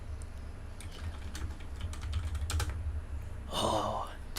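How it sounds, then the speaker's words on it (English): Loud clicking of a computer keyboard close to the microphone, irregular bursts of keystrokes over a low hum, ending in a brief louder rush of noise. "oh, the clicking is so loud."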